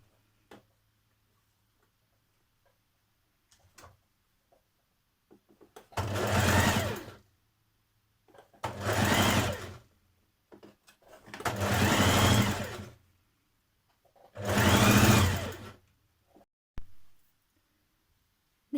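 A sewing machine stitches a dress seam around a curve in four separate bursts of rapid whirring, each a couple of seconds long, with quiet pauses and light handling ticks between them.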